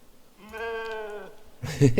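A sheep in a video game gives one clear, drawn-out bleat lasting about a second, close and fairly loud, followed by someone talking.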